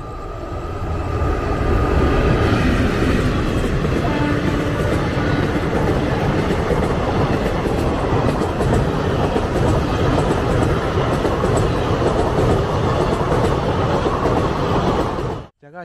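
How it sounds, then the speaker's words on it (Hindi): A train rolls steadily past a West Bengal railway station, loud and close, its continuous rumble and wheel clatter filling the scene before cutting off abruptly at the end. "Some train is coming from the back side."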